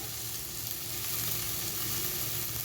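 Sprouted mung beans with spices sizzle steadily in a pan, a dense, even frying hiss that runs throughout, close and moderately loud, with no talking.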